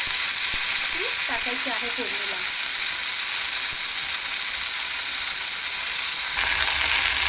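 Chopped garlic fried until reddish in a pan for methi sabji, with fresh fenugreek leaves going in, gives a loud, steady, close sizzle that hisses on without a break, with a few brief clinks early on and a slight shift in texture near the end.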